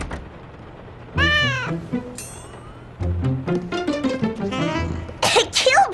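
A cartoon cat named Gilbert lets out several distinct, rising-and-falling meows, a few close and clear, with sneeze-like and coughing noises between them and a sharper squeal at the end.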